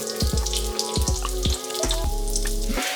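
Polish apple pancakes (racuchy) sizzle steadily in a frying pan, a close and continuous crackle of hot fat with faint pops, and no voices.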